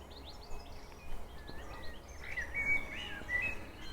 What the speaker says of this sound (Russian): Внизу горы селения, петухи,